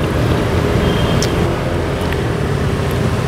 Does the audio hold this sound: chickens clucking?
no